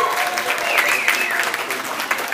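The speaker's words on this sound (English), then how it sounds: "A round of applause for Mr. Andrew Segona." An audience at a benefit concert applauds a performer being introduced, a brief dense burst of clapping that stays fairly loud, with faint voices mixed in beneath it.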